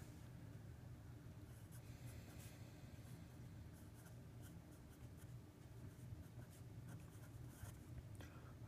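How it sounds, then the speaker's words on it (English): Equations being written on a board during an engineering lecture on shear in beams, a faint, steady scratching of strokes over a low background rumble, with no talk. "So this is where we can write some equations in."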